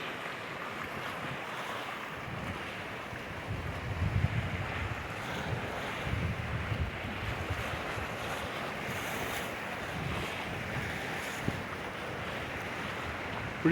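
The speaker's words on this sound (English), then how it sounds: "Wind's blowing strong." Strong, ferocious wind roars steadily over an unfrozen lake on a Muskoka island in Ontario during a blizzard, a broad continuous rush with gusty swells and buffeting against the microphone.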